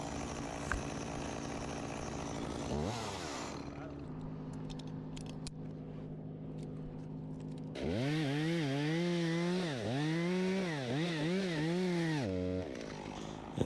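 Chainsaw revving and cutting a notch into a tall pine during rigged tree removal, loud and close, with steady engine drone broken by a quieter idle stretch and repeated pitch swings as the saw bites.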